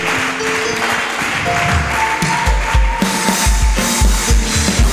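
Church congregation at a French-language service applauding and acclaiming, loud irregular clapping and thumps with a few voices over a held tone, continuous and close.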